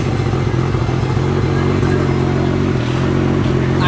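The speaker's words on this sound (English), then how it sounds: "first startup, mine's front pipe and a Tomei catback" A Nissan R34 GTR fitted with a Tomei catback exhaust and a front pipe fires up for the first time and settles into a steady, loud, rumbling idle heard close by, with a slight dip in the engine note near the end.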